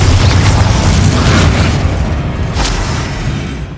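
A Confringo blast spell detonating in the game Hogwarts Legacy, a loud, dense booming explosion with a crackling burst that fills the moment and slowly rumbles away, with no voices over it.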